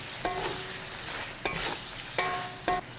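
Squid, onion and vegetables are stir-fried over the highest heat for sweet and sour calamari, giving a loud continuous sizzle broken by about four sharp bursts as the pan is tossed, with no voices.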